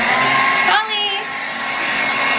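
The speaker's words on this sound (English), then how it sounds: "blow dry my hair as well as the puppy's hair as they get washed" A hair dryer blows on a puppy's freshly washed coat, a steady close whirring rush of air that dips briefly in pitch and level partway through, then carries on evenly.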